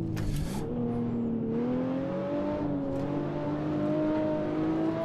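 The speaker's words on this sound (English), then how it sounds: "Still got wheel spin in second gear there." A BMW 1M hillclimb car spinning its wheels in second gear, the engine holding a steady strained drone that rises slowly in pitch, with a sharp burst at the start.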